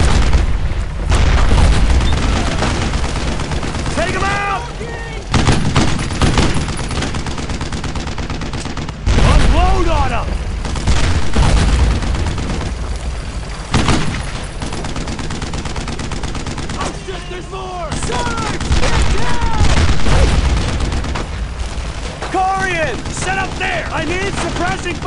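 Sustained suppressing fire with booming explosions in the World War II shooter Brothers in Arms: Road to Hill 30, a dense, loud barrage of overlapping gunshots and blasts, with soldiers shouting throughout.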